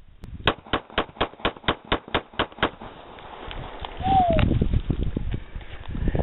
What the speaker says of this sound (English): Sparky Snap-Link, what are you firing? A Taurus Millennium 45.